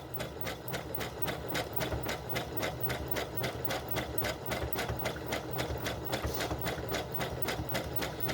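A sewing machine stitches a simple applique onto a cotton doll bodice, its needle chattering in a steady, rapid, even rhythm close by, running alone without a break.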